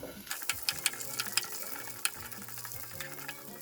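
Potatoes fry in hot oil with mustard seeds in a home kitchen, giving a steady low sizzle broken by sharp crackling pops and scraping stirs of a ladle, moderately close, with no talking.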